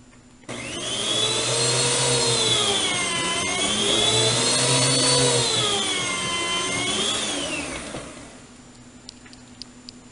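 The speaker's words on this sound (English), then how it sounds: "So we're just gonna slice them through the slicer here." Potatoes for scalloped potatoes are fed through an electric slicer, a loud steady whirring motor whine that rises and falls in pitch for about seven seconds, then winds down.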